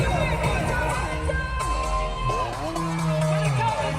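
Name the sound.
crowd cheering at a concert, Summer Sonic Tokyo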